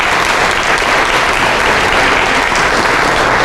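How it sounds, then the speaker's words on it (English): Loud, dense applause from a crowd at an entrepreneurs' graduation ceremony, continuous and close, with no talking over it. "Can we give her a round of applause for all the hard work that she's doing?"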